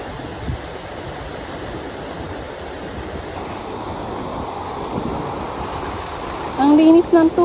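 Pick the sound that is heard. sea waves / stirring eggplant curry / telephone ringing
sea waves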